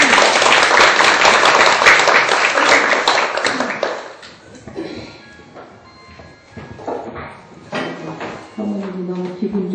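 Church gathering audience applauding to welcome someone speaker, a loud dense burst of clapping for about four seconds that fades into scattered claps and murmuring voices.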